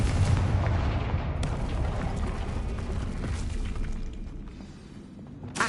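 Confringo fire spell blasts in the Hogwarts Legacy video game, a dense, continuous rumble of booming explosions and crackling debris filling the whole stretch, loud throughout and easing slightly near the end before a final burst.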